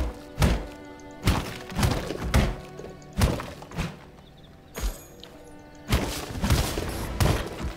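An enemy in the video game V Rising fires crossbow shots, heard as a series of sharp, solid thunks spaced irregularly about a second apart, some louder and closer than others, over a quiet background.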